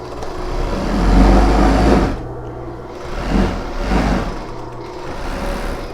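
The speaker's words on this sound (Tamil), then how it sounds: "கரையை மட்டும் ஓவலாக் மிஷினில் கட் பண்ண போகிறோம்." An overlock sewing machine trims and finishes a fabric edge for a living room sofa cover, with a loud, steady motor whir that swells and eases in a few surges.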